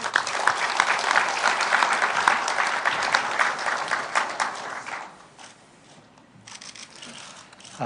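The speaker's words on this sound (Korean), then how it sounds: "기조연설 박수로 청해 주시죠." Audience applause before a keynote speech at a Kwanhun debate forum, loud and dense for about five seconds before fading, then a faint scattered clap or two trailing off.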